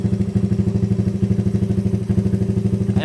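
A Rusi Raider 150 motorcycle fitted with a budget racing CDI runs close by with a loud, steady, pulsing engine note, alone with no voices.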